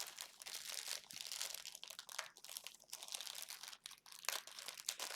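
A crinkly plastic snack package of chewy sweets being torn open and handled, close and continuous crackling and rustling with sharp crunchy bursts, no talking.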